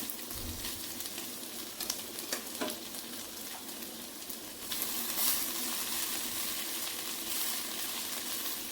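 Cooked rice tossed into a pan of capsicum sizzles and hisses steadily, with a few scraping stirs early on and the frying growing a little louder and brighter partway through.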